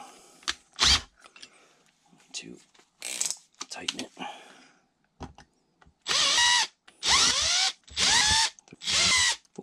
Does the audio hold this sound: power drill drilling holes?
yes